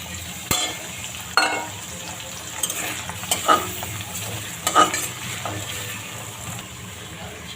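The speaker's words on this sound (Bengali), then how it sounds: "এবার চিংড়ি মাছটা দিয়ে দেবো" Prawns and onion fry in oil in a wok. The close, continuous sizzle is broken by the repeated scrape and clatter of stirring.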